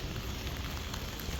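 Rain falling in a Japanese village, a steady loud hiss of drops hitting surfaces all around, with no pauses.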